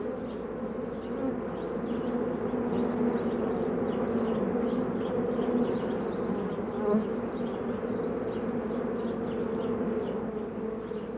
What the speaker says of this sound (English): the calcid wasps come out from the hole where a bee should have emerged